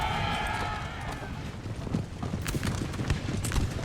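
Russian horse artillery horses gallop in a Napoleon Total War battle at Balaclava, a steady rumble of many hooves under loud battle noise, with scattered impacts and a faint whinny.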